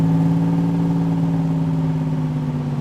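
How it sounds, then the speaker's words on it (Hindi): A car pulls away slowly in first gear, its engine giving a steady mid-pitched hum with a low drone that holds fairly loud and even throughout, with no voices. "गाड़ी धीरे धीरे ही सही पर चल पड़ी।"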